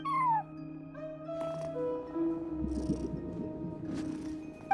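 Short, faint cat meows from Genshin Impact, a cat sitting at a front desk, scattered over soft game music and ambient tones, quiet and slightly distant.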